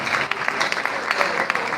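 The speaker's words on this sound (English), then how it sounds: "A round of applause." A crowd at an inter-tertiary debate competition claps steadily, dense and moderately loud, with a few sharper individual claps standing out.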